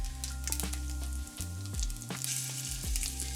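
Tomato paste frying in hot fat for a penne alla vodka sauce over medium heat, a steady close sizzle with a few sharp crackles and light stirring clatter.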